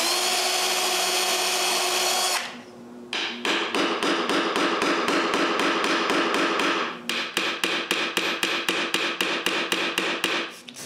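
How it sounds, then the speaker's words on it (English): A power tool whines briefly, then a series of sharp hammer blows nailing a hook onto a round wooden frame rings out in quick rhythmic bursts, close and loud. "I nail the hook in place."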